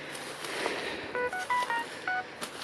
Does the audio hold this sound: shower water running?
no